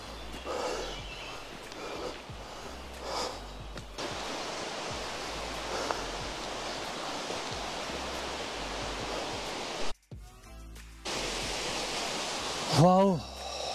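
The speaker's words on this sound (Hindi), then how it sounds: "बिल्कुल डेंस फॉरेस्ट में इंटरनली ये वाटरफॉल बना हुआ है।" A waterfall hidden in dense forest on the way to Talakona, giving a steady broad rushing roar that carries on under a voice, with brief handling bumps and a short break.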